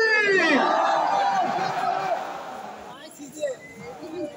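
Crowd at a Zaker Party religious gathering chanting Allahu Akbar in answer to a takbir call: a loud massed roar of voices that swells, then fades into murmuring babble.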